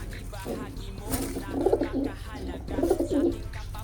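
Racing pigeons coo in two low, throaty bursts nearby, with faint rustling in between and no talking.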